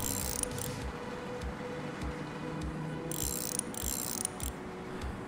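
Ratchet tightening a bolt on a bus in Bus Mechanic Simulator: a fast, continuous mechanical clicking with intermittent bursts of brighter whirring, steady and alone with no talk.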